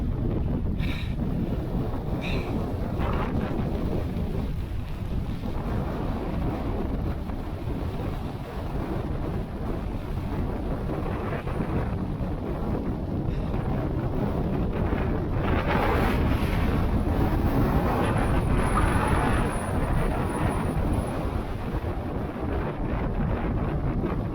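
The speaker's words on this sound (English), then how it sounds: "The wind's just got up." Strong wind blows across open hills, a constant loud roar buffeting the microphone for the whole stretch, with gusty swells midway and no one speaking.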